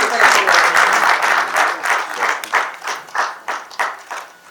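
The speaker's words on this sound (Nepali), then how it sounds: "कृपया ताली बजाएर बधाई दिनुहोला" An audience at a song release ceremony applauds, starting as dense clapping that thins into separate, decaying claps as it fades out.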